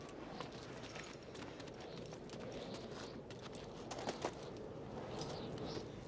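The hooves of a pack horse clop softly and irregularly on the ground at a distance, faint and scattered among outdoor ambience with birds cooing nearby.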